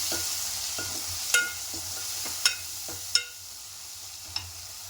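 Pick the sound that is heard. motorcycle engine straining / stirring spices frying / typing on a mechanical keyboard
stirring spices frying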